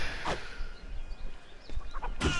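Several short chicken clucks from a video game, The Bard's Tale, scattered over a busy background, fairly close and moderate in volume.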